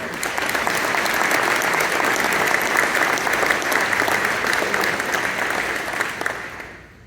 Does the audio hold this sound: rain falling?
no